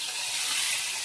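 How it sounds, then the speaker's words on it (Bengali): Fish frying in a pan as part of a home-cooked meal for guests, a steady close sizzle with bright hiss, continuous and unbroken through the short stretch with no talking. "এদিক দিয়ে যে মাছ ভাজা বসাই দিচ্ছি"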